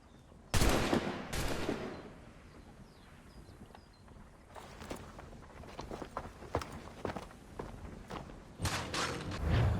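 Musket volleys from a firing line in Assassin's Creed 3, with two loud broadband blasts early on, then a quieter stretch of scattered crackling shots and footsteps, and a final burst near the end.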